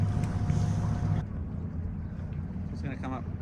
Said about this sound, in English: It's not a police boat. It's a fishing boat.